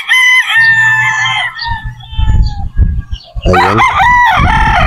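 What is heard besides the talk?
Boston Roundhead brood stag roosters crowing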